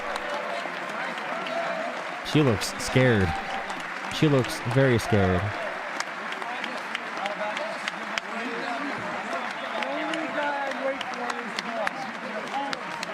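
A crowd cheers and claps in a brief burst during a call-in debate stream, the applause rising and falling under excited talking voices.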